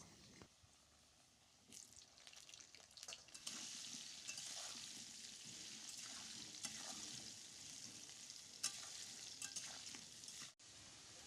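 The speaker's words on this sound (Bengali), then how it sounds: "আলুগুলো লবণ হলুদ দিয়ে ভালো করে ভেজে নেব" Potatoes fry in oil with salt and turmeric, giving a continuous close sizzle with scraping stirring strokes throughout. The sound cuts off abruptly near the end.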